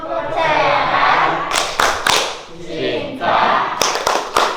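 An Indonesian classroom of children performs a rhythmic clapping chant about the benefits of honesty, with voices chanting together in bursts broken by sharp, loud claps.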